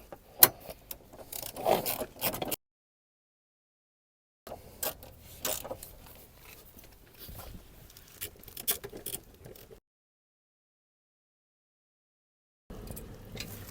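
A socket wrench tightens the mounting bolts for a fire extinguisher cage in a 2005-2012 Toyota RAV4, heard as close irregular ratcheting clicks and taps in bursts separated by silent gaps.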